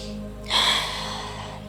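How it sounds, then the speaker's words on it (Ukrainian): Deep breathing during a beginner yoga session, one audible breathy inhale or exhale that rises sharply then slowly fades, close to the microphone over a steady low hum. "Продовжуємо тут дихати."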